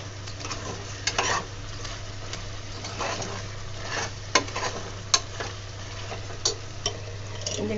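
Biryani masala being stirred and sautéed in a pressure cooker for chicken biryani, with a soft continuous sizzle, occasional sharp metallic taps of the spoon against the cooker, and a steady low hum beneath.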